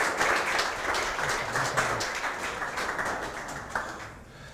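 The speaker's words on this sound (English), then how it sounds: "please give him a round of applause" Audience applause at a startup fireside chat event, a scattered, moderate patter of clapping that stays fairly steady and slowly thins toward the end.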